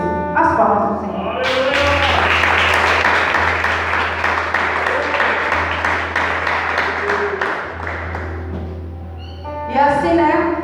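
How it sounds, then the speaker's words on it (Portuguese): Congregation applause at a special church service for couples, a loud sustained round of clapping lasting several seconds over a low hum, with a voice speaking before and after it. "As palmas do Senhor."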